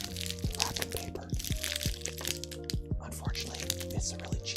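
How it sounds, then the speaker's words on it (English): Cheap wrapping paper crumpled by hand, crinkling continuously close up, with soft crunches and no loud pops, under a steady musical tone and a voice talking. "now we're gonna crumple up wrapping paper"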